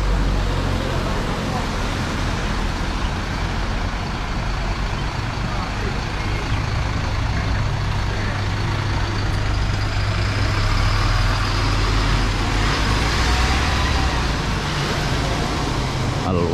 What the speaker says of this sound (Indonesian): Nah, ini bus nomor 67